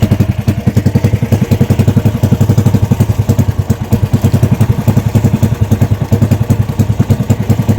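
A small boat's motorcycle-type engine thumps in a steady, fast rhythmic putter, loud and close, running alone without speech near a river mouth where squid are caught.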